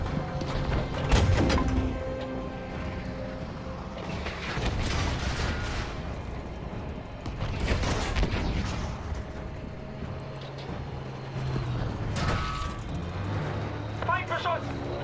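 Tank gunfire from enemy fire in a panzer video game, heavy booming blasts in bursts over engine rumble, with voices shouting over the noise.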